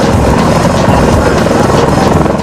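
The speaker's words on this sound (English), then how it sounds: "the copter's rotor blades subject the Marines on the ground to hurricane-force winds" A military helicopter hovers low over Humvees, its rotor blades beating hard as a loud, steady, dense roar of rotor wash and engine noise that fills the whole stretch without pause.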